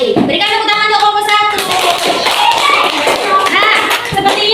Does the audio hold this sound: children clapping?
yes